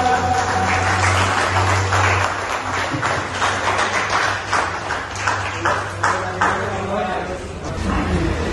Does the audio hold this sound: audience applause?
yes